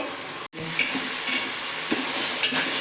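Onions hit hot tempering oil for Kathiyawadi undhiyu and sizzle loudly and close, with a brief dropout near the start and a few stirring scrapes through the hiss.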